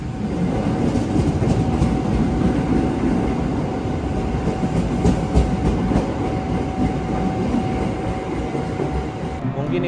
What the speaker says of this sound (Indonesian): perjalanan naik kereta api Gumarang